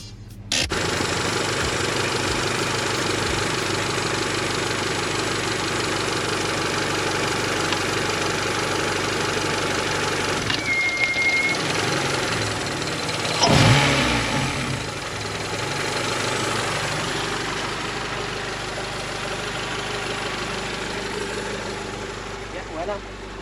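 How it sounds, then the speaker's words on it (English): A Honda Accord with a swapped H22 engine idles steadily up close while the idle is adjusted, a continuous rumbling drone that swells briefly partway through before settling back to an even hum. "So let me adjust the idle real quick."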